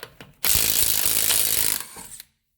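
An impact wrench or ratchet with a 19 mm socket removes the front wheel nuts of a 2016 Subaru Impreza, letting out a loud, close burst of rapid rattling hammering that stops abruptly after a couple of seconds.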